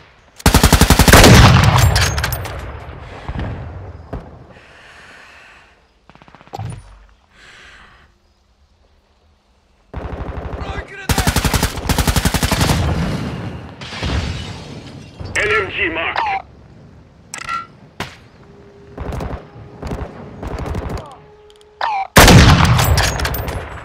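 Bursts of automatic gunfire crackle in Call of Duty: Modern Warfare II, loud and close in several volleys separated by gaps. Shouted voices come in between the shots.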